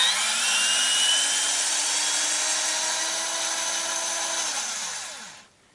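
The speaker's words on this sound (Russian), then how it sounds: "Шуруповерт значительно ускоряет." Cordless screwdriver spinning out cylinder head bolts on a VAZ 2109-2115, a steady whining buzz lasting several seconds at close range, then winding down and stopping at the end.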